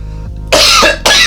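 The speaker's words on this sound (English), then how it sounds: "there goes the cough" Two sharp, loud coughs close to the mic after a cannabis dab, the first longer and harsh, the second following quickly after a brief pause.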